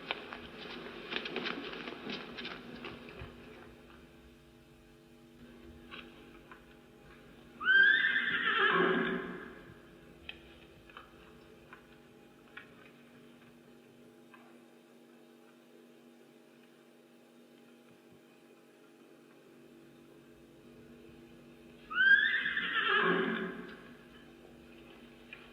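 Restless horses neigh and whinny in two loud, separate bursts over a quiet background with faint shuffling and patter.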